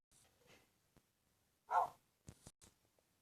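A single bark from a virtual dog, a Doberman in a Minecraft dog mod, loud and close, followed by a few sharp clicks and short bursts in otherwise quiet game audio.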